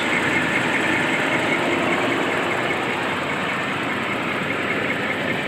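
The 3.6-liter Pentastar V6 of a 2017 Dodge Durango Citadel idles under the open hood, giving a steady, even whirring hum heard close up without any talking.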